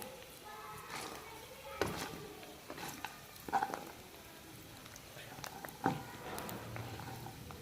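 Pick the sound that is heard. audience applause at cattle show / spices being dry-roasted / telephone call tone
spices being dry-roasted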